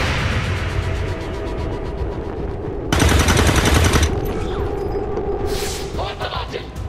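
Video game gunfire from a squad battle in XCOM 2 or Rainbow Six, with rapid automatic bursts running throughout, a loud dense volley near the middle, and voices and game sounds mixed underneath.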